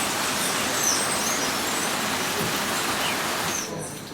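Steady rain falls in a forest in Trinidad and Tobago, a dense, even hiss of drops on leaves that holds for several seconds and eases slightly at the end, with a faint bird call in the background.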